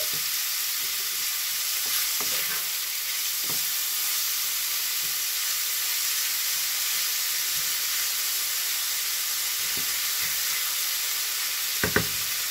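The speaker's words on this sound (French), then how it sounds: "vous faites blanchir votre viande un petit peu" Lamb meat sizzling steadily in a hot frying pan, a continuous bright hiss with occasional clicks and scrapes of stirring, close and fairly loud, without talk.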